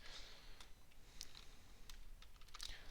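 Computer keyboard typed on in quick irregular bursts of faint, close clicking keystrokes over a quiet room hiss, no voices.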